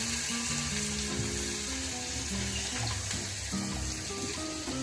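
Steady crackling sizzle of crushed garlic and chili paste frying in hot oil with asafoetida, close and continuous, with no talking.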